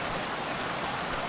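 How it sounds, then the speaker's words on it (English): Steady rain falls in the survival game Stranded Deep, a dense, even hiss of drops with no pauses and no voices over it. "when it started raining"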